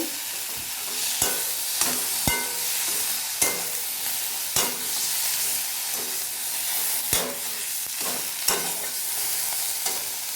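A homemade spice paste fries in a pan for banana stem bharta while a spatula stirs it, with sharp scraping clacks every second or so over a constant close sizzle.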